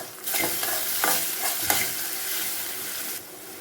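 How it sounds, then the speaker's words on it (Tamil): Ingredients sautéed in oil and stirred in a pan for Kerala elai adai, a loud, dense sizzle with repeated scraping strokes of the spoon, continuing steadily before easing near the end. "எண்ணெயில் நல்லா வணக்கிக்கலாம்"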